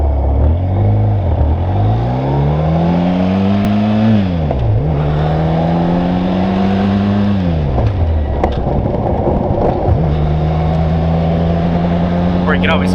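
Motorcycle engine revving up and down through a missed gear shift on the road, loud and close, with pitch rising and falling several times over steady wind noise.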